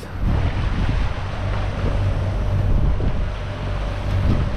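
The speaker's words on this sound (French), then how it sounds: "On a vraiment le vent dans les fesses. D'ailleurs, on a une houle qui nous pousse." Wind roaring across the microphone over the wash and slosh of water against a sailboat's hull running downwind with a following swell, a continuous rushing, surging sound at sea.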